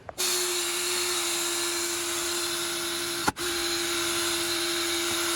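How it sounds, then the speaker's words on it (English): Power buffer running on red car parts, a steady whining motor hum that starts abruptly, holds constant, then briefly cuts out and restarts. "that's as much time as I'm spending buffing these things"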